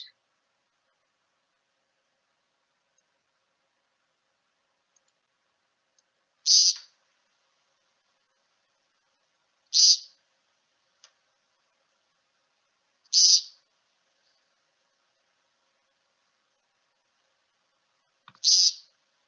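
A bird on the ground gives four short buzzy peent calls, spaced a few seconds apart over near silence, each call crisp and fairly close.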